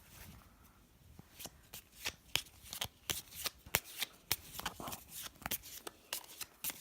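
A spectator shuffles a deck of playing cards during a card trick, producing a rapid series of crisp riffling snaps and flutters close up, growing busier and louder toward the end.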